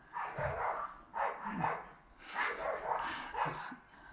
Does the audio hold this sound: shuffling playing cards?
no